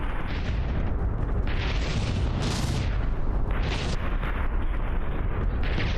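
In the naval combat game From the Depths, cannon fire and explosions rumble loudly and continuously, with repeated booming bursts layered over a dense roar.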